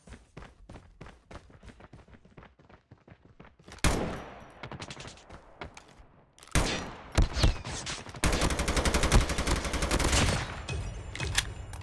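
Gunfire in Call of Duty Mobile, starting as quieter rapid single shots and footsteps, then erupting into dense, loud automatic bursts and sustained machine-gun fusillades, no voices over the shooting.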